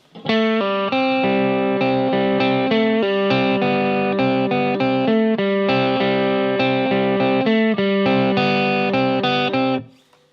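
A heavily distorted electric guitar plays a repeating riff, loud and close, with steady picked notes before ringing out at the end.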